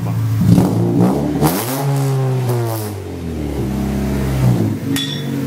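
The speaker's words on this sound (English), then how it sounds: "So let me tell my brother to rev it. Rev it a little bit." Hyundai Tiburon engine fitted with eBay headers and a short downpipe, revved nearby in repeated loud bursts that rise and fall, with a raspy, throaty exhaust tone between revs.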